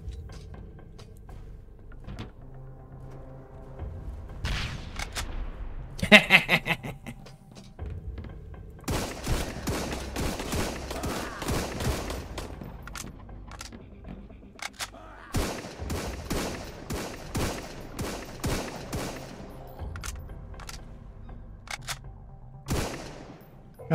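Pistol fire in the video game Sunkenland comes in several bursts of sharp shots separated by short quiet gaps, fairly loud against a low background hum.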